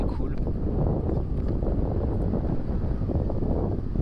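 Constant wind rushing past the microphone while riding the Verge, a quiet hubless electric motorcycle prototype, with a loud, even roar throughout and voices talking underneath.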